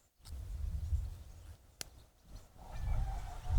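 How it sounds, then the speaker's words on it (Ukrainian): A small CIVIVI Gramis knife locks into its compact sheath with one sharp, brief click. The click stands out against faint low rumbling handling noise. "Прямо характерне клацання є при фіксації, це добре."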